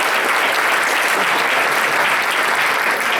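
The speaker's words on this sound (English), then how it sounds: "So let's give them a round of applause right now." A conference audience gives a round of applause for the hosts, with dense, steady clapping from many hands filling the whole stretch at a loud, even level and no voices on top.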